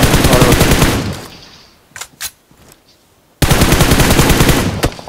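Machine-gun fire in a video game rattles out in two long, loud, rapid bursts, separated by a short quieter gap holding a few isolated shots.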